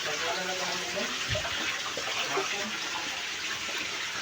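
Water gushes steadily from a mainline pipe, a constant hissing, splashing flow that persists throughout, with voices talking faintly underneath.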